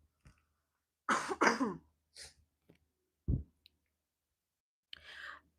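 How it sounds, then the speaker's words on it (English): A few sharp coughs close by, followed by a short throat clear and a soft breathy cough near the end, with pauses between them. "I really have to cough right now."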